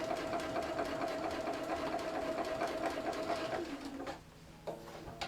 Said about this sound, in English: Stitch the next little bit.